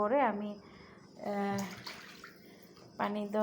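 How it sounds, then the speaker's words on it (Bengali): Water poured over chicken pieces arranged in a cooking pot gives a short broadband splash between stretches of close talking. "আর এখানে দিয়ে দেব পরিমাণ মতো পানি"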